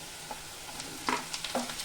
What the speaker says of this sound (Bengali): আমি এখন টমেটো কুচি দিয়ে দিব